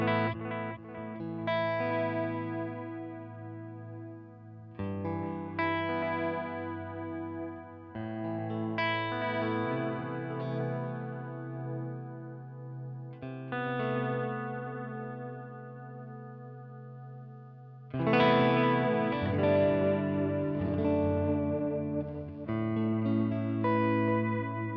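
Electric guitar played through an HX Stomp modulation effect at a slow sine-wave speed with headroom fully up, sustained chords and picked notes swelling and wavering gently, a brighter, louder strummed passage near the end, no voices.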